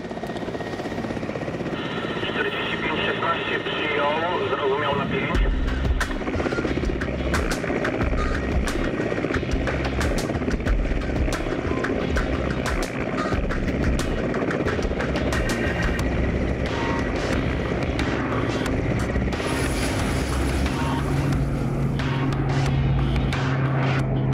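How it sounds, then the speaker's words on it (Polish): A military Mi-17 helicopter's engine and rotors roar steadily throughout during a test run, loud and close, with a rising whine and rhythmic blade chopping. "za chwileczkę zacznie się próba śmigłowca Mi-17"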